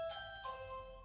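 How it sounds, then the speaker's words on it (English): A two-tone doorbell chime rings once, ding then dong, faint and somewhat distant, fading out in a quiet room. "someone will ring the doorbell"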